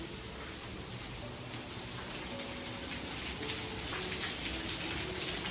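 Steady rain pattering down, a constant soft hiss of falling drops with no voices.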